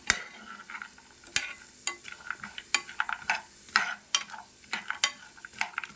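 Vermicelli roasting on a low flame for semiya kesari, soft sizzling under a series of sharp, distinct spoon scrapes and clinks against the pan at an uneven rhythm, fairly quiet and close.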